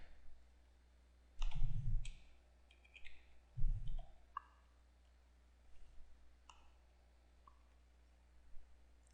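Computer mouse clicking while saving a file, a few faint isolated clicks spread across a quiet background with a low hum and some soft thumps.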